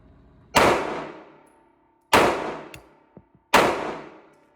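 Three sharp Glock pistol shots crack at an outdoor range, each loud report followed by a decaying ring, spaced about 1.5 seconds apart with small clicks between.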